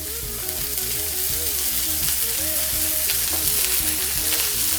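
Smash burgers sizzle loudly and steadily in bacon grease, a continuous close frying hiss with a faint tonal whine running underneath.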